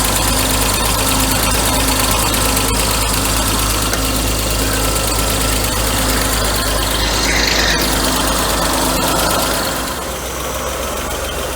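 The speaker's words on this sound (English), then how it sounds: "The only thing I hear is a lifter." Mercedes W124 with an M103 engine running steadily after a head gasket job, a continuous close mid-range drone with a fine rapid lifter tick riding through it; the idle dips slightly near the end.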